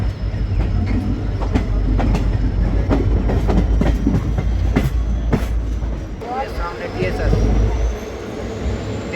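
The 14526 Shri Ganga Nagar–Ambala Cantt Intercity Express at Giddarwa railway station, loud steady rumble with rhythmic wheel clatter over rail joints and a faint squeal near the end, a voice talking over it.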